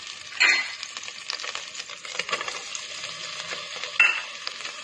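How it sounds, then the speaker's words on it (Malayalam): Chicken and tomato fry in a pan and are stirred, a steady sizzle broken by spatula scrapes and a couple of sharp knocks against the pan, close and without speech. "ഇളക്കി കൊടുക്കാം."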